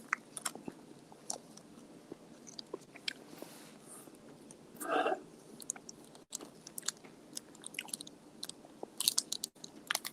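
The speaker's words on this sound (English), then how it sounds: "the Hershey bar I'm having, it's got whole almonds in it. It's a milk chocolate with whole almonds" Someone chews a Hershey milk chocolate bar with whole almonds, giving faint, sporadic wet crunches and clicks close to the ear, with a short louder burst of crunching midway.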